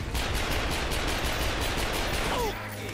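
Rapid gunfire in the video game The Darkness 2, a dense continuous volley of loud shots filling the whole stretch before tapering off near the end.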